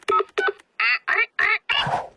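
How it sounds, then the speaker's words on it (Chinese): A cartoon phone in Peppa Pig plays dialing tones: six short, clean, tonal beeps in quick succession, with the last one longer and blurrier. "我来打给猪奶奶吧，她可以帮助我们。"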